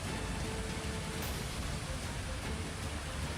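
Heavy rain in Lahaul Spiti, news footage: a steady, dense roar of downpour filling the scene, constant and loud with no voices.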